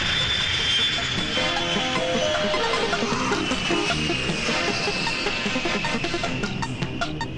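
Loud continuous roar of a jet airplane arriving at an airport, with a high whining engine tone, steady and close, no voices heard.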